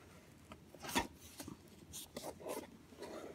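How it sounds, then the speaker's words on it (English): A trusty old knife slices through the tape on a Target beauty box package, giving a few soft scraping and rasping strokes, close and fairly quiet, with a sharper cut near the start. "let me open it up with my trusty old knife."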